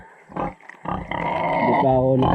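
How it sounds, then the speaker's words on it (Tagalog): Pig on a rural Filipino homestead grunting at close range, a short burst, a pause, then longer sustained rough grunts and squeals building in loudness. "Baboy."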